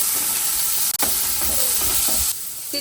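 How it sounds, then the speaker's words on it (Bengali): Steamed bitter gourd frying in hot oil, a steady close sizzle and hiss with a few soft stirring scrapes, loudest near the start and easing slightly toward the end. "করলাগুলোকে একটু ভাপিয়ে নিয়েছি, তেলের মধ্যে দিয়ে ভেজে নেব।"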